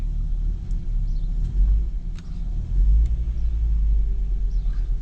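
A Volvo V70 petrol engine idles as a low, steady rumble close by, its tone swelling slightly in two brief rises, with no talking over it.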